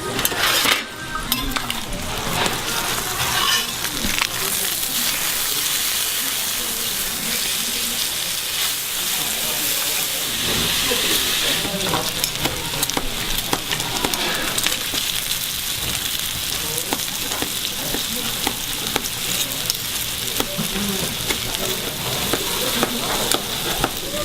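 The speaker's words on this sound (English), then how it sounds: "the juices and the oils and the aroma and the steam that's coming off of this pork is incredible" Pork belly sizzles and steams on a hot stone, a loud, dense, continuous frying crackle close up that runs without pause.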